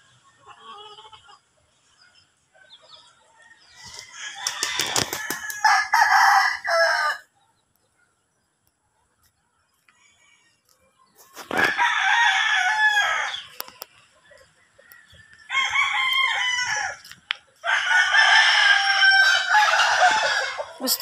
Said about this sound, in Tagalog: Sinamahan ko lang si ate magpakain ng manok. Daming manok po dito mga kagwapa.